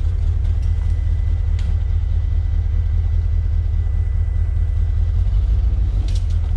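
A Ford Bronco that has been stuck on a rock revs forward with its wheel turned hard right, giving a steady, loud, low engine rumble that continues throughout without talk.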